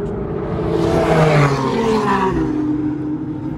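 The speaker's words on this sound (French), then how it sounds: "Une Porsche GT3 RS." A Porsche GT3 RS racing on a track, its engine a steady loud roar that swells and shifts pitch as it runs through the gears, holding near and strong throughout with no talk.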